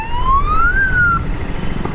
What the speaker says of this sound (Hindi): बाकी सायरन बजा के देखूँगा